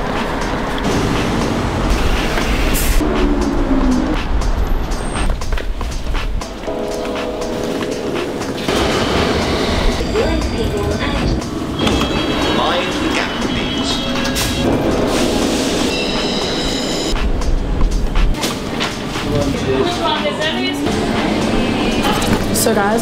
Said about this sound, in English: I just got the train to the gym